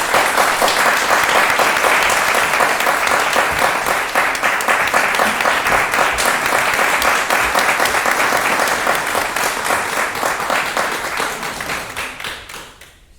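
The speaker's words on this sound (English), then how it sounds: "Let's give her a nice big round of applause" A long, loud round of audience applause after a masterclass performance. The dense clapping holds steady for about twelve seconds, then tapers off and fades out at the end.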